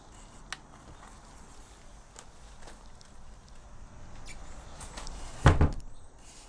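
A newly installed shed door swings shut and lands with one solid thump near the end, after a stretch of quiet handling noise.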